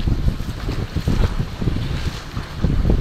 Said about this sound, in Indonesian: cuaca di dermaga saat ini angin sedang dan laut smooth.